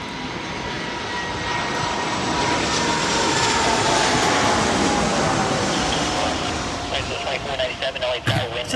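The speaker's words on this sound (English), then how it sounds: "It's a Delta Airbus." A Delta Airbus jet airliner on approach to runway 24 roars steadily overhead, its broad engine noise swelling and holding loud for most of the clip before thinning out near the end.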